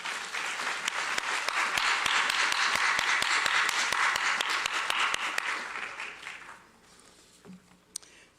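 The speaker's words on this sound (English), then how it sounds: "Can we give them a round of applause?" An audience gives a round of applause at a Hall of Fame ceremony, dense sustained clapping that holds steady for several seconds, then fades to a few scattered claps.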